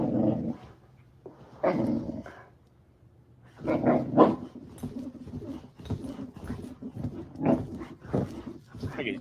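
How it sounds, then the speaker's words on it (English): A dog barks and growls to wake its owner in the morning, with repeated loud bursts and rumbling growls that come close and fill the clip, separated by brief pauses. "how his dog wakes him up every morning"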